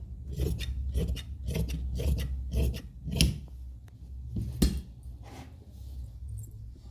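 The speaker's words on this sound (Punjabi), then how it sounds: "ਇਹਨੂੰ ਆਪਾਂ ਇਥੋਂ ਕਟਿੰਗ ਕਰ ਲੈਣਾ ਇਸ ਕੱਪੜੇ ਨੂੰ" Scissors snip through sleeve fabric while a sleeve lining is cut to size, giving a steady run of close, crisp cutting strokes with brief pauses between them.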